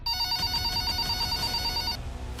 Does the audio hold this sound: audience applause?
no